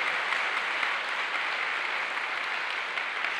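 A church congregation applauds during a sermon, a steady, dense wash of clapping that stays loud and even throughout with no voices on top.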